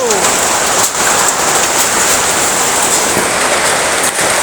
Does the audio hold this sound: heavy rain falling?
yes